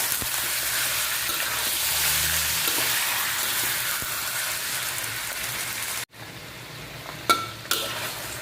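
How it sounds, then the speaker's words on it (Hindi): Chicken pieces fry loudly in a karahi for Shinwari chicken karahi, a dense close sizzle that drops away suddenly near the end, followed by a quieter hiss and a couple of sharp utensil clinks. "इसको अभी हमने तकरीबन 5 से 6 मिनट के लिए इस तरह भूनना है जब तक ये थोड़ा सा गोल्डन ना हो जाए"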